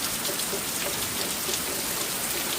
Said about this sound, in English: I just wanted to come out and show how hard it's raining.